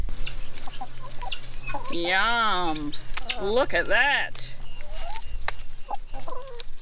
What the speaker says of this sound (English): Have a look at how much chickens love tree lettuce